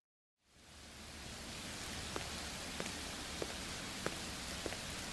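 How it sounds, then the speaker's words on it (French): Fine, light rain falls on asphalt in a soft, steady hiss that starts abruptly and stays even, with a few slightly louder drips landing at irregular intervals. "Une pluie fine qui tombait sur le bitume."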